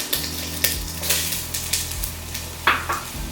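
Onions dropped into a pot of partly melted butter and oil, giving a sizzle that runs under repeated clinks and scrapes of a utensil against the pot, with no talking.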